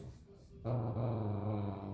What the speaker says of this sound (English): There's a very vicious dog that is trying to eviscerate his heartbeat puppy on the floor here.